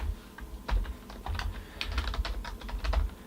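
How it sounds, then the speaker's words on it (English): Fingers type on a computer keyboard, a close run of quick, uneven key clicks and taps with short gaps, and nobody speaks. "So I can type on this page just like any other word processor."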